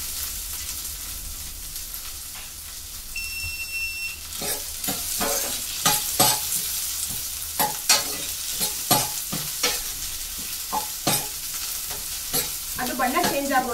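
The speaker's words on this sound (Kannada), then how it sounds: "ಅದು ಹಾಕೊಂಡ ನಂತರ ಅದು ಲೋ ಫ್ಲೇಮಲ್ಲಿ ಅದು ಬಣ್ಣ ಚೇಂಜ್ ಆಗೋವರೆಗೂ, ಕಲರ್ ಸ್ವಲ್ಪ ಚೇಂಜ್ ಆಗೋವರೆಗೂ ಚೆನ್ನಾಗಿ ಫ್ರೈ ಮಾಡ್ಕೊಳ್ಳಿ." Tomato gojju frying on a low flame, a soft continuous sizzle broken by repeated sharp scrapes and clacks of a spoon stirring in the pan, growing busier toward the end, with no talking.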